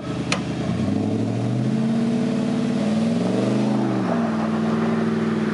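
A Chevrolet Silverado 1500 with a 6.2 engine revs hard while pulling out a stuck Ram 2500, rising and falling pitch sustained loudly and close throughout, with no talk.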